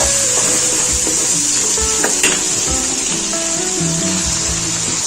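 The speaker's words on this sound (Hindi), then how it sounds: "लहसुन अदरक को हमें टमाटर प्याज के साथ से भून लेना है" Garlic and ginger fry with tomato and onion in a pan, giving a steady, loud sizzle throughout with light scraping and stirring knocks on top.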